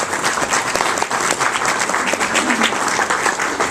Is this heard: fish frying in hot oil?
no